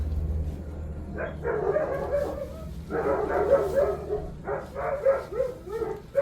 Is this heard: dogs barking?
yes